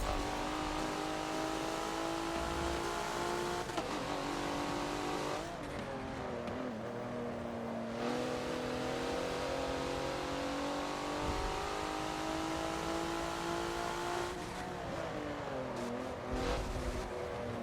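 Race cars including a Porsche on the Hockenheimring in Forza, with engines screaming continuously through revving gear changes, several cars close together, loud and unbroken.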